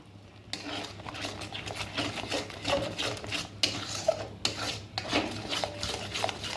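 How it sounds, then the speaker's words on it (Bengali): Spice paste mixed with yogurt being stirred while frying in a pan for a cheese-stuffed chhana kofta curry, with repeated scraping and rubbing strokes of a spoon against the pan under a low sizzle. "এই জন্য মশলাটা বারবার করে নাড়াতে হবে কষানোর সময়"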